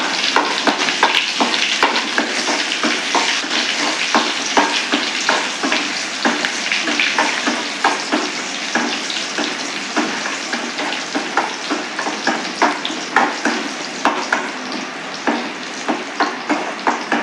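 Onions frying in oil with spluttered mustard seeds for a Tirunelveli urundai kuzhambu, a loud close sizzle broken by a steady run of sharp scraping stirs, no talk.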